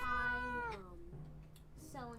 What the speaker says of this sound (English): Was that the cat?